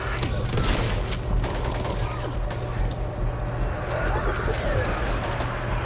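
Submachine gun fire from a Vector in the zombie shooter Back 4 Blood, dense continuous bursts of automatic shots mixed with other game noise, loud and sustained throughout.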